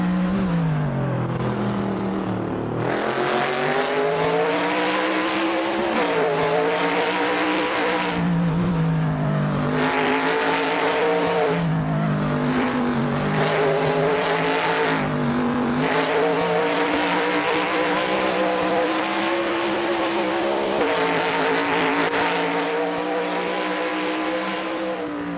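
Race cars, among them a 1968 Pontiac Firebird in Apollo 11 livery, roar past at Road America in a Trans Am exhibition, engines loud and close, pitch swelling and dropping as cars pass one after another.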